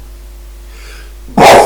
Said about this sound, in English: you have to put up with the sneezes